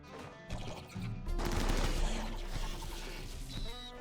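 Battle gunfire in RimWorld: dense, overlapping bursts of shots and crackling fire swell after a brief lull and hold as a continuous barrage, with a faint tonal ring near the end.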